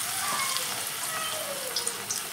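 Small semolina and onion pakoras frying in plenty of hot oil, a steady bright hiss and bubbling that fills the whole stretch, with faint spoon clinks near the end and no voices.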